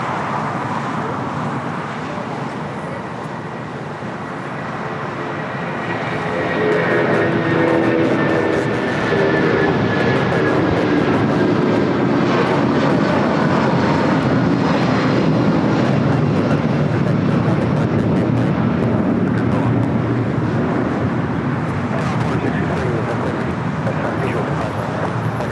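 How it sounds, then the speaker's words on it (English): A Boeing 737-200 jet takes off from the south side at LAX, its roar swelling from a distant rumble into a loud, sustained broadband blast, with faint voices and traffic in the background. "How about a south side takeoff of the 737-200?"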